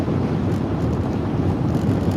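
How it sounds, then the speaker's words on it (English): Strong wind blows during a drive toward Las Vegas, a steady, loud, low rumbling roar with no break. "Pretty strong wind."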